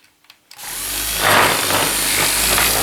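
A handheld power drill on a small office workbench build: a few faint knocks, then the motor spins up and runs loud and steady for about two seconds, rising slightly in pitch, close to the microphone.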